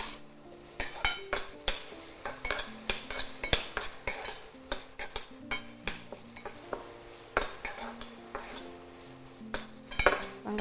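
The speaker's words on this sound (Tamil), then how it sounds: "வெங்காயம் நல்லா வதங்கட்டும்." Sliced onions sauté in a pan for a meal maker gravy, with a spatula repeatedly scraping and clinking against the metal in an uneven rhythm over a soft sizzle and faint background music.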